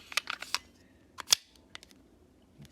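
A Taurus G2C pistol magazine is pushed into the grip, giving a series of sharp, close metallic clicks in quick bursts, with a crisp louder snap near the middle and a few lighter clicks after.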